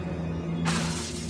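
Revelio spell cast in the Hogwarts Legacy video game: a bright, shimmering burst of high sizzle that sweeps in about halfway through over a low steady hum, with no voices.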